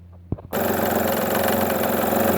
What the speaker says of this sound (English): Let me start the engine and see if it still noisy or not